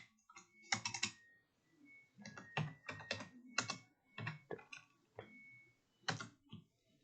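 Python code being typed on a computer keyboard: irregular bursts of crisp key clicks, some fast runs and a few sharper strokes, close and fairly quiet, with no talking.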